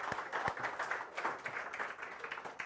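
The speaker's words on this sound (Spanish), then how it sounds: "Vamos a darle un aplauso grande a nuestro Dios." Church congregation applauding during a Spanish-language sermon, a dense, steady patter of clapping with a few sharper claps near the start, moderately faint throughout.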